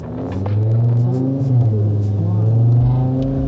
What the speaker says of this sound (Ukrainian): Воно якось реве, як знаєте, як двохлітровий бенз.